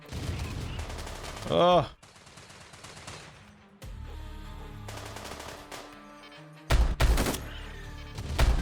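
Bursts of automatic gunfire and rapid shots from the video game Rimworld, with mechs firing on a shield in a kill box, loud, interrupted by short gaps, with a brief exclamation from a voice.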